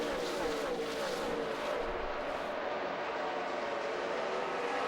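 NASCAR stock cars racing at Charlotte Motor Speedway during the 2011 Sprint All-Star Race: a steady, dense engine roar with passing whine, continuous and fairly loud, no voices.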